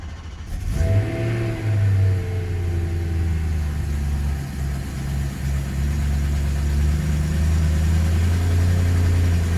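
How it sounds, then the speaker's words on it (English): A BMW E92 M3 cold-starts indoors with a sharp crank and catch, flares briefly, then settles into a steady, loud, close idle rumble that holds without interruption. "I'll just do a quick cold start just to show you."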